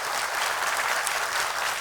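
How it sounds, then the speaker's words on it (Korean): Church congregation applauding in welcome during an evening worship service, a dense, steady burst of many hands clapping together for a short moment, with no talking over it. "우리 같이 큰 환영의 박수를 부탁드리도록 하겠습니다."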